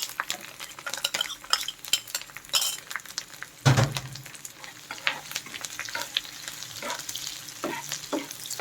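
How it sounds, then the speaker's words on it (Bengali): Chopped onions and seven green chilies fry in a hot pan, crackling and sizzling steadily while a metal spatula scrapes and clinks against the pan with irregular stirring strokes. No one speaks. "তারপর এর মধ্যে দিয়ে দিচ্ছি পেঁয়াজ কুচি আর সাতটা মরিচ"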